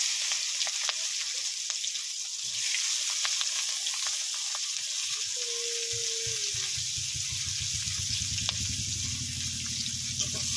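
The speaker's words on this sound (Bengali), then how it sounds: "কুচিয়ে রাখা পেঁয়াজগুলো দিয়ে দিচ্ছি।" Chopped onions hit hot mustard-style fish-frying oil already seasoned with black cumin, setting off a loud, steady sizzle with bursts of crackling and a brief clink of stirring, alone with no voices.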